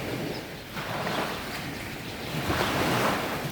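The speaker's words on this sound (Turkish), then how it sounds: "Şimdi denizde biraz da dalga var." Sea waves wash in continuously at Turgut village near Marmaris, Turkey, and wind buffets the microphone, so the surf swells and recedes in a steady roar.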